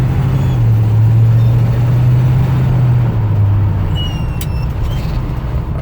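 A 1974 Chevy K10 pickup driving, its engine droning low and steady up close with a faint brief squeal near the end, no talking.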